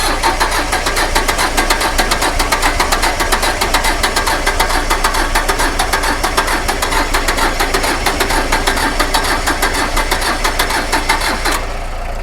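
A small Iseki tractor's diesel engine cranks continuously, its starter churning in a fast, even rhythm for about eleven seconds without catching, loud and close.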